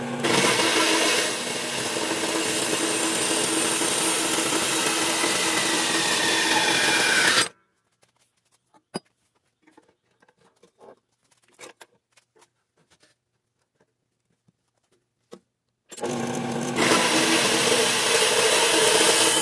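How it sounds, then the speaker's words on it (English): A Harbor Freight horizontal band saw runs loud and steady for about seven seconds, stops into near silence with small clicks and taps, then starts up again at full level toward the end. "So that's the first two cuts on this new saw."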